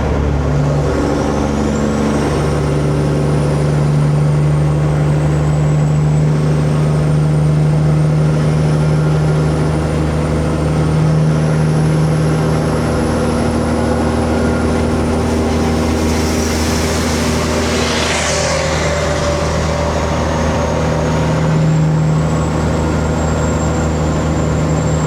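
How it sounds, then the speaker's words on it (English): A semi truck is driving in South Carolina with an engine making a strange noise: a loud, steady engine drone with a wavering high whine throughout, with no talk. "Truck sounds crazy. I don't know what's going on, but something sounds crazy over there."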